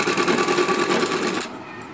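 A sewing machine running a seam on folded fabric from the reverse side, a close, rapid mechanical whir that stops abruptly near the end.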